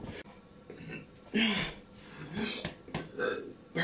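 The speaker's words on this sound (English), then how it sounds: "Burping." Burps from a person during a home exercise workout, several short throaty bursts spaced across a few seconds, close and fairly loud in a quiet room.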